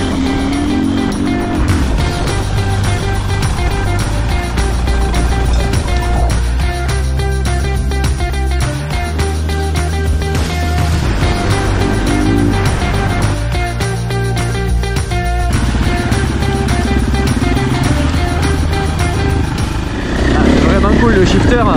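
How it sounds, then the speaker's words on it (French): KTM EXC 2024 enduro motorcycle ridden off-road in South Africa, engine loud and close throughout, with revs dropping and rising as gears shift via quick shifter on a small climb, the rider speaking over it. "Cool le shifter dans ces moments là, petite montée, on n'a pas besoin d'avoir un droit sur l'embrayage"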